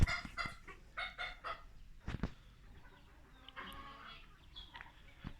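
Soft, scattered clucking from a group of chickens at a moderate distance, with a couple of sharp knocks and quiet farmyard ambience.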